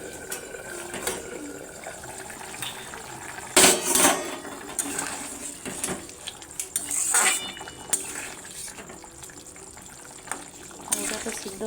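Metal cutlery clinks against a cooking pot of boiling potatoes, with two sharp scraping knocks standing out against a low bubbling background and a few lighter taps later.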